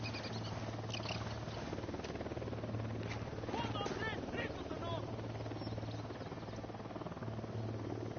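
A helicopter flies in the Ghost Recon Wildlands video game, its steady low rotor drone running continuously at moderate level beneath layered game sounds and occasional voices.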